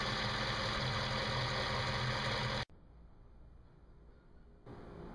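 A Dodge/Jeep 3.7L or 4.7L engine runs at a steady idle after a water pump replacement, then cuts off abruptly partway through, leaving quiet background before a faint hum returns near the end.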